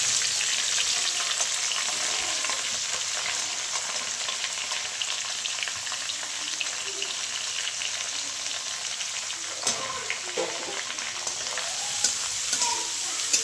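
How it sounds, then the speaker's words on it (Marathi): Onion frying in a pan on a home stove, a steady close sizzle with occasional stirring clatter, alone with no talk. "आता कांदा टाकते भाजायला."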